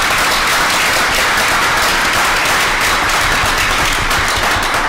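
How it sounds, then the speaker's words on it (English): Loud, full applause from a conference audience for the event staff, a thick uninterrupted clatter of many hands that stays even throughout. "Please let's give them a round of applause"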